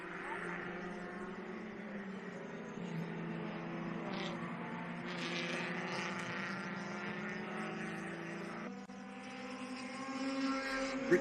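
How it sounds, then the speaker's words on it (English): Race car engine at the WA Sporting Car Club championship, holding a steady harmonic drone that climbs and flattens as it bounces off the rev limiter, with a brief dip near the end before rising again, moderately distant. "hits the rev limiter again at the"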